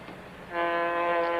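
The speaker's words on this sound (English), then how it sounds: "That's the sound of a live locomotive coming at me." A train horn blares in, a sustained chord-like tone following a brief rumble, loud and steady for about a second.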